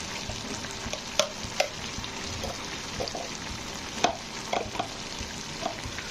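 Cabbage being stirred in a pan with coriander leaves and ghee for a Bengali vegetarian cabbage ghonto, a steady soft sizzle broken by a few sharp scrapes and clicks of the spoon against the pan.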